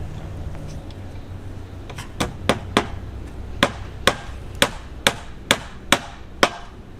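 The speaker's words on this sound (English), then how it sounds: "while he was nailing in the bottom corner" A hammer drives nails into the wooden door frame of a hoop house, about ten sharp, ringing blows spaced unevenly, growing louder and quicker toward the end, with faint background noise between strikes.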